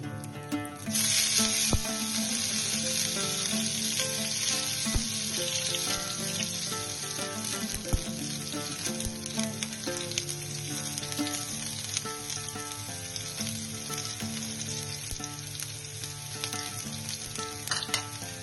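Chopped garlic, ginger and green chilli fry in hot oil with dried red chilli, a loud, steady sizzle running unbroken the whole way through.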